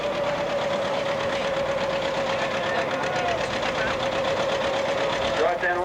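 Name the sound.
John Deere 720 tractor engine pulling a sled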